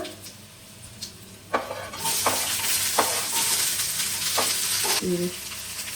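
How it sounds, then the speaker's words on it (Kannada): Onions dropped into hot oil with dried red chillies, garlic and curry leaves, setting off a sudden sizzle that swells and holds steady, with a few spatula scrapes and clicks against the pan. "ಒಣಗಿದ ಮೆಣಸಿನ್ಕಾಯಿ, ಬೆಳ್ಳುಳ್ಳಿ. ಇದು ಇವಾಗ ಇದಕ್ಕೆ ಈರುಳ್ಳಿ ಹಾಕೊಳ್ಳೋಣ."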